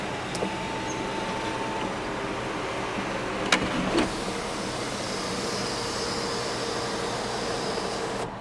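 On a 2009 Nissan Maxima, the sunroof and its covers power open with a faint, steady electric motor whine under a low cabin hum, punctuated by two soft clicks midway.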